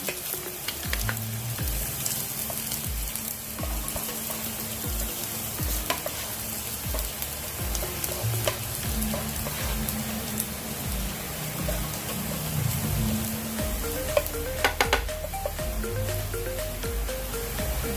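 Garlic sautés in a little oil in a frying pan, a steady close sizzle running the whole time with occasional stirring scrapes and clatter over it and no talking.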